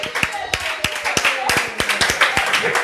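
A church congregation clapping along in a steady, fairly quick rhythm of sharp, close hand claps, with voices mixed in underneath.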